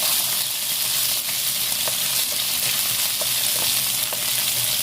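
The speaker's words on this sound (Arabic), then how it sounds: "وفي الصوص بتاعها ده اللي نزل هنحط معلقة ثوم مفروم" Minced garlic frying in the sauce left by kofta in a pan, a steady close sizzle with faint crackles throughout and no talk.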